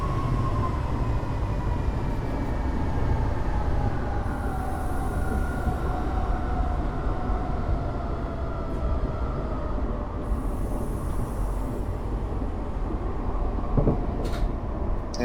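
A MARC Penn Line electric passenger train in the video game Train Simulator 2021 runs steadily with a constant rumbling drone and a high whining motor tone, continuous throughout with no voices.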